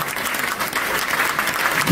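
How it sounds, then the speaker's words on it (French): A crowd applauding at an awards ceremony, a dense continuous wash of clapping that holds steady throughout. "On peut l'applaudir quand même, s'il vous plaît"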